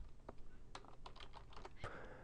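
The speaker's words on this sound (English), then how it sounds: "So we're going to start typing that, and then we're going to give it the name that we want." Someone types a folder name on a computer keyboard at a command line: a quick, irregular run of close, crisp key clicks, no talking.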